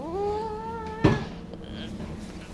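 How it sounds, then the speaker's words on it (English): A cat meows with a rising, drawn-out cry, followed by a sharp knock and quiet room noise. "little kitty"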